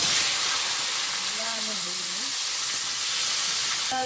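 Mixed vegetables such as long beans and pointed gourd fry in oil with turmeric, giving a loud, dense hiss and sizzle close by, with a faint voice briefly in the background.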